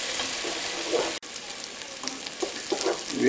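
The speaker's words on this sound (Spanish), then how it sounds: "Vamos a dejar que dore bien un ratito" Onion and garlic frying in a pan for a spinach stew, a steady broadband sizzle with a brief cut near the middle, close and moderately loud, with no talking.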